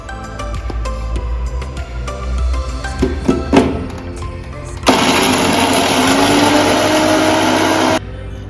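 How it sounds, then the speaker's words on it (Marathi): A kitchen mixer grinder blends ginger, garlic and coriander leaves into a paste, with a loud steady whirring burst that starts abruptly after some clinking and stops sharply a few seconds later. "मिक्सरच्या भांड्यामधून आलं लसूण पेस्ट करायची आणि यासोबत मी कोथिंबीरीचे पाने टाकले."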